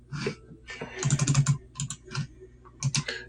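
Computer keys clatter in irregular bursts as someone types and copies and pastes during virtual cold calling, quick clusters of taps with short pauses between.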